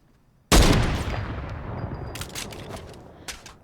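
A single loud sniper rifle shot in a video game, sharp near crack followed by a long fading rumble and tail, with a few faint clicks afterward.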